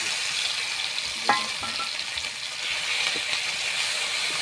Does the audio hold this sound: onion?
yes